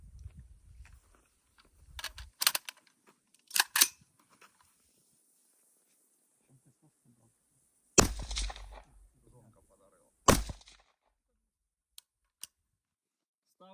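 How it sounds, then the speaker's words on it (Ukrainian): A few sharp, muffled gunshots from a suppressed Ruger .22 rifle fire one at a time with long quiet gaps, followed by faint clicks; no talking. "давайте зробимо декілька пострілів"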